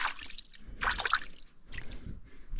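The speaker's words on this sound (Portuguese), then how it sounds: "É porque aqui é uma nascente. Aqui é um olho d'água." Water trickling and dripping at a natural spring in dry caatinga scrubland, soft irregular drips and small splashes close by, with no talk.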